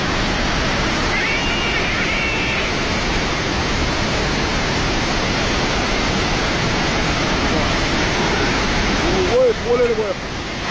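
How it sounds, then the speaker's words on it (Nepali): The flooded Narayani river in Chitwan, Nepal, roars as a loud, constant rush of water for the whole stretch, with a brief faint voice near the end. "नारायणीको बहाव एकदमै बढ्न लागेको छ"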